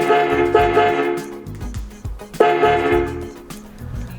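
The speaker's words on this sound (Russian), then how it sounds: "Первая кнопка это велозвонок. Короткое или длинное нажатие это подача сигнала." A bell-button signal from a waterproof portable mono Bluetooth speaker for bicycles sounds twice, each a loud electronic ringing tone with a sharp start that decays over about two seconds, close up with no talking.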